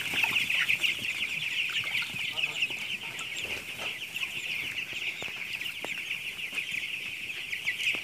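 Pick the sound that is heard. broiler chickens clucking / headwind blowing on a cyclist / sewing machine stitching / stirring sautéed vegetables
broiler chickens clucking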